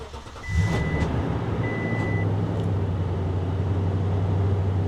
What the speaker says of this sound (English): Okay, so the engine does run.